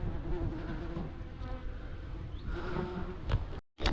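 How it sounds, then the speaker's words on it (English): Wasps buzz close around a beekeeper at an apiary hive, a steady droning hum that rises and falls as they circle, continuous for a few seconds before cutting off abruptly. "Wasps following me about."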